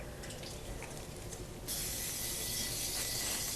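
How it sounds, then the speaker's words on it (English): A nearly empty can of cooking spray is sprayed onto a pan: a loud, broad, sputtering hiss bursts in partway through and holds steady to the end, with no talking. "And then we're going to spray it again."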